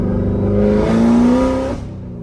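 A Corvette Z06 engine automatically rev-matches as the clutch is released, giving one loud, close rev that rises smoothly, holds briefly and then drops back to a lower hum.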